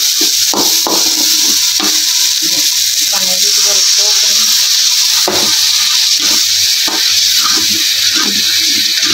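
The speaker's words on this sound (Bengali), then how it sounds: "আমার মাছের ইয়ে তো একদম ভাজা হয়ে গেছে দেখুন কীভাবে তেল বেড়েছে" Fish fries in hot oil in a home kitchen, a constant bright sizzle heard up close, broken by sharp clacks and scraping knocks from the pan and utensils.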